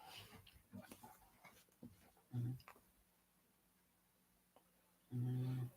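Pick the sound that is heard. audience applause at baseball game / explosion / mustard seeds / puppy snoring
puppy snoring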